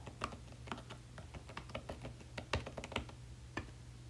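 Typing a book title on a computer keyboard for a library catalog search: quiet, close, irregular key taps in quick bursts with short pauses, and no voices.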